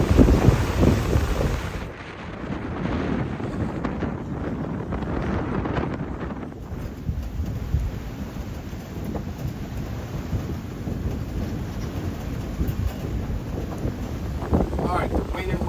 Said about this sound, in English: the wind and waves were continuing to build